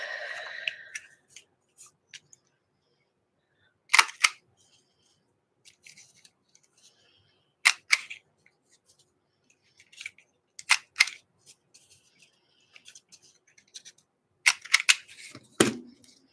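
Paper corners being trimmed with a corner punch: sharp, isolated crunchy clicks spaced a few seconds apart, each a short snap, with near silence between them and brief faint rustling at the start.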